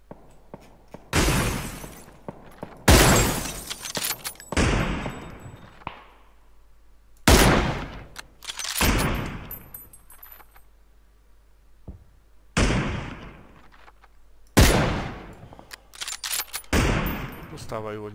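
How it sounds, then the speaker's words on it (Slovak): Gunfire in a shooter video game, apparently a battle royale with M24 and P90 weapons: loud, close bursts of shots come in repeated volleys separated by brief pauses. "Odkiaľ strieľa."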